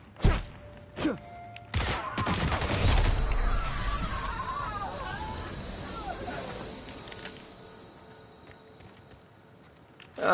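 Gunshots from weapons in The Outer Worlds video game ring out, a few sharp isolated cracks, then a burst of crashing impacts and rumbling clatter that fades away, with a voice speaking underneath.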